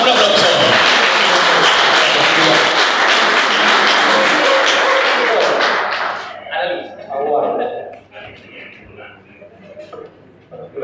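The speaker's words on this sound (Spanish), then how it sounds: "recibimos, por supuesto, con un aplauso al presidente, señor Marcelo Mancuso. Un aplauso." Audience applause welcomes the president of Calpo at an institutional event, a loud sustained ovation lasting about six seconds before fading into scattered claps and murmuring voices.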